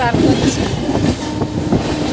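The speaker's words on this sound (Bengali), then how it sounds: "ভালোই স্পিডে ট্রেন চলছে" A train rumbles steadily along the rails with rhythmic clattering and a low, continuous roar, heard from inside a moving carriage.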